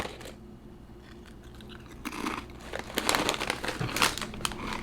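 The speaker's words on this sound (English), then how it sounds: "So we about to eat some Cool Ranch Doritos." Cool Ranch Doritos eaten from a crinkly snack bag: soft rustling at first, then louder bursts of bag crinkling and crisp chip crunching over the last few seconds, close up and without talk.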